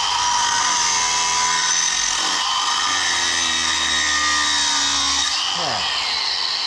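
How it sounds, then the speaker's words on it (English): A new DeWalt cordless tool cuts a bolt off, giving a loud, steady, close-up grinding whine that holds for several seconds, then its pitch sweeps down as the tool spins down near the end. "Cut that bolt right off."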